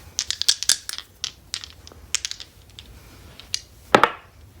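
Astrology dice clatter and tumble across a hard surface, a burst of quick, sharp clicks that settles, then one louder final knock.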